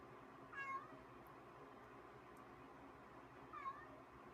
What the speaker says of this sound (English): because of the noisy cat